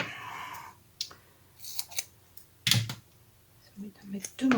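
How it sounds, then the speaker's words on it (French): Scissors cutting 3D craft foam make a few sharp snips and clicks close by, spaced irregularly, and a voice speaks briefly at the start. "Je vais prendre la mousse 3D. Hop. Je vais peut-être couper un peu grand."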